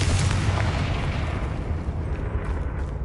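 A loud, rumbling blast from the Confringo spell in Hogwarts Legacy on PS5, a broad booming explosion that starts at full force and slowly decays over a few seconds with no talk over it.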